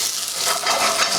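Lamb searing in a hot pan gives a brief, steady, loud sizzle with a dense hiss and light crackling.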